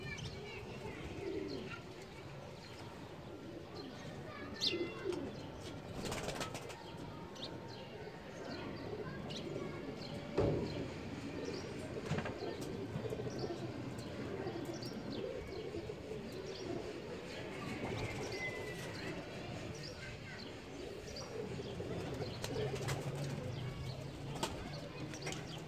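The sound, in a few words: pigeons cooing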